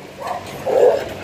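A dog in Paco Park gives two short barks or yips, the second louder and longer, close by with no talk over them.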